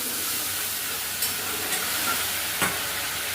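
Ginger and chopped tomato frying in a pan, with water poured in for a bottle gourd curry: a steady, loud sizzle and hiss throughout, broken by a few brief sharper bursts of spitting steam.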